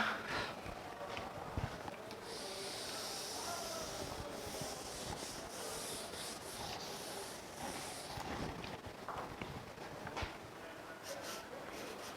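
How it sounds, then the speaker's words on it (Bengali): Continuous rubbing and scraping of an eraser or duster wiping writing off a classroom blackboard during a geography lesson, steady and moderately close with a faint room hum. "তাহলে এটা মুছে দিচ্ছি।"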